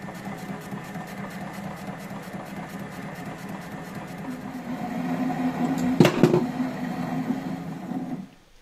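A lathe faces off the end of an engine cylinder, giving a steady mechanical hum and drone that grows louder partway through, with a sharp metallic scrape near the end before it stops.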